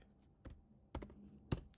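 Three separate, crisp keystrokes on a computer keyboard, spaced about half a second apart while typing a Linux command, close and quiet against near silence.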